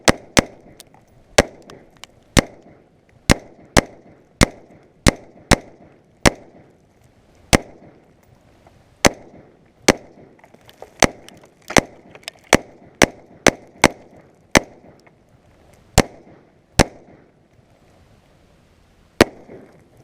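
An AR-15 rifle with a laser sight fires at water bottles outdoors, about two dozen loud, sharp cracks in an uneven rhythm, some in quick pairs and others spaced by longer pauses, each with a short fading tail.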